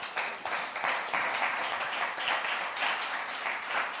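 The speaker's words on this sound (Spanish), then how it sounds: "Dele un aplauso a Dios" A church congregation applauds God during a Spanish-language sermon in London, and the dense, lively clapping holds steady for the whole stretch.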